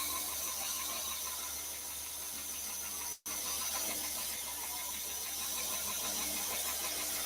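A bench grinder hums and hisses at a steady, even level while a stiletto dagger blade is ground, with one brief dropout midway and no talk.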